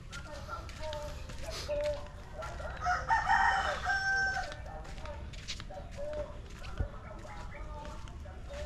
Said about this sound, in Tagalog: mayroong mga pangsabong na manok